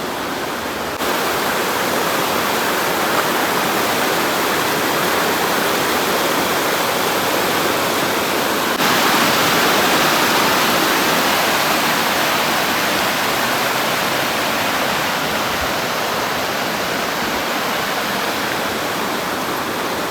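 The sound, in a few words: Bogatha waterfall roaring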